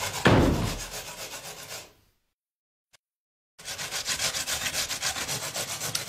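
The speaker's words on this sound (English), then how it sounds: "I'm just grating this up to finish it up" Carrot grated by hand for a wartime pudding, rhythmic rasping strokes against the grater, then a pause of near silence before a fresh run of quick, even scraping strokes.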